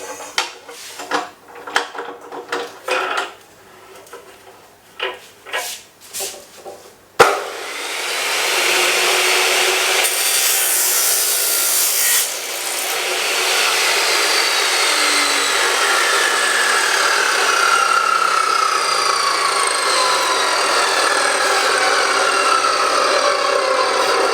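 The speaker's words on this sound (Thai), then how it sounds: "เดี๋ยวลองตัดเหล็กอันนี้บ้างนะครับ" A DeWALT 14-inch fiber chop saw spins up with a sharp start and then grinds steadily through a piece of steel, a loud continuous abrasive whine that holds for many seconds after some preceding handling clatter.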